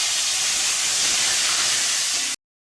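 Panch phoron spices and a bay leaf sizzle in hot oil for a fish-head and pui shak dish, a loud, close, steady hiss that runs unbroken for about two seconds and then cuts off abruptly.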